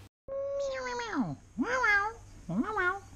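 Three drawn-out, wavering meows follow one another, each rising then falling in pitch, fairly close and clear with little else around them.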